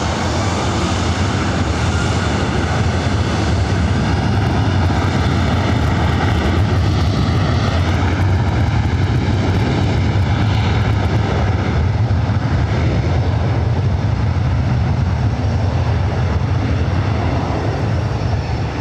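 A WestJet airliner takes off at LAX, its engines producing a loud, steady, broadband roar that holds strong throughout with a slowly shifting whine.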